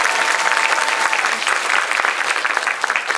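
A theater audience at a film Q&A screening of the movie Hunt gives loud, close applause, a dense continuous clatter of many hands sustained throughout.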